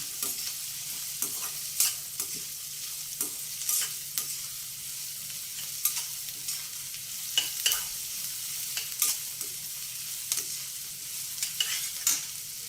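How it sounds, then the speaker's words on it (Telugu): Curry leaves frying in a pan with green chilies and onions, a soft continuous sizzle broken by regular scraping stirs at a steady rhythm, fairly quiet and close. "కరివేపాకు, వేసేసుకొని వేయించుకోవాలి"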